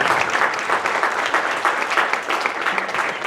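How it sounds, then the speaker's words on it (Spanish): Dense, loud applause from a conference audience for a speaker, continuous clapping filling the whole short stretch. "démosles un aplauso al maestro Jairo"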